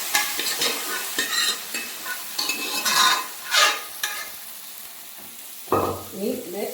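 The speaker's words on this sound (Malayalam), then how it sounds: "നന്നായിട്ട് ഒന്ന് ചുവന്ന കളറാകുന്ന വരെ വറുത്ത് കൊടുക്കുക" Onions fry in a pan for a green gram curry, a soft sizzle broken by a series of scraping stirs at an uneven rhythm, with one louder clatter near the end.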